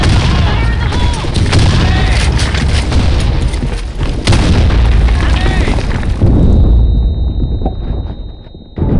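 Grenade blasts and gunfire in a BlackShot clan-war match, a dense, loud barrage of booms and shots running continuously before thinning out near the end, with players shouting under the noise.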